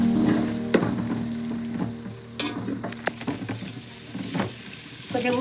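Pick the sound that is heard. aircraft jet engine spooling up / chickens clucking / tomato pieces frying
tomato pieces frying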